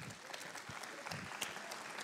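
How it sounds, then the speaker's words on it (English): Brief burst of audience applause at a live community concert, with scattered claps and a soft crowd murmur that stay at a moderate level for about two seconds. "That deserves an applause"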